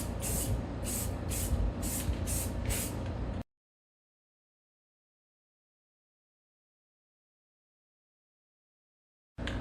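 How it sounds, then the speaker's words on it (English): Aerosol paint sprayed onto a trailer tire during an old-school tire repair: several short rhythmic hissing bursts, close and loud, followed by a long silence and a final brief spray at the end. "Put a little coat of paint on there."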